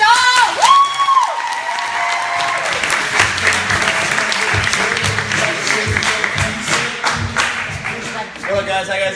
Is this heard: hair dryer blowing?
no